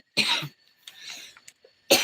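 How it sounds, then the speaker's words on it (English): A single cough bursts out close by, then a quiet stretch with faint murmurs, and a second cough follows at the end. "bad cough."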